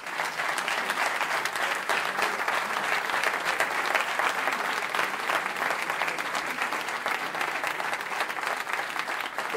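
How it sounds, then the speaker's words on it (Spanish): Sustained applause from a large audience at a 50th anniversary celebration, a dense, even roar of clapping that stays strong and unbroken for nearly ten seconds. "Eu pido desde aquí un gran aplauso para él."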